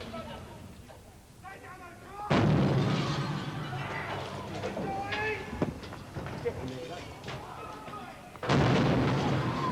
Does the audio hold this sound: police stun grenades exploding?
yes